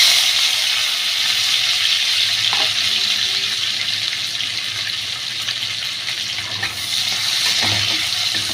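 Potatoes fry in hot oil with cumin, giving a steady, close hiss and sizzle that stays loud and even throughout, with a few faint clinks.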